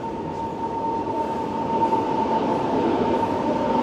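A Russian Ivolga 4.0 electric passenger train rushes past with a steady rumble and a sustained high whine, growing slightly louder as it goes by.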